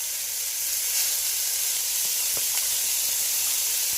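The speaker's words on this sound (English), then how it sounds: "turned it up a little bit to brown off the mince" Minced beef browning in a hot pan for Kai Si Ming, a loud continuous sizzle and hiss of steam with a few faint knocks of stirring, close and without voices.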